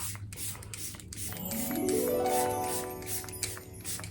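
A burst of makeup setting spray hisses in a long, steady spray, close and fairly loud, with a faint rising mechanical whine beneath it and no talking.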